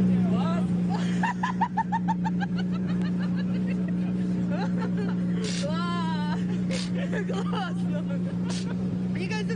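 Champion drivers drift a car on Sofia Square, its engine droning steadily under crowd chatter and voices, with brief squealing sweeps partway through.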